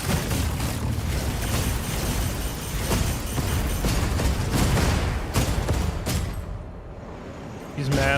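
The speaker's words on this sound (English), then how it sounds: "I hear him firing off that howitzer cannon trying to hit me." Howitzer cannon fire in the Rimworld video game: a dense barrage of booming blasts and crackling bursts, loud and near throughout, thinning toward the end with a final deep thud.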